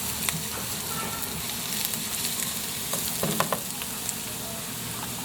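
Tomatoes go into a pan of sautéing onion and browned garlic for sinigang na bangus, setting off a steady close sizzle with occasional soft stirring clicks, and no talking.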